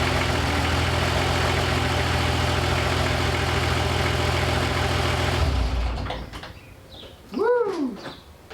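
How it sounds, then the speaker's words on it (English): An old 2H diesel engine idles steadily and loudly after being started, then shuts off partway through, leaving near-silence broken by a brief bird chirp. "So it's pretty exciting to finally get this engine fired up."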